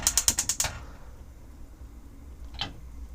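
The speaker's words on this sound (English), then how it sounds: "Igniter lights them all, and again same on the oven." A caravan oven's hob igniter snaps off a quick run of about six sharp, close clicks, then one more click after a short pause, with no talking.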